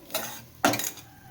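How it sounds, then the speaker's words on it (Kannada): Grated coconut masala stirred and fried in a pan for ghee chicken sukka, giving two short scraping, sizzling bursts of spoon against pan, with no talk. "ಈಗ ಚೆನ್ನಾಗಿ ಫ್ರೈ ಮಾಡ್ಕೊಳ್ತಾ ಇದ್ದೀವಿ"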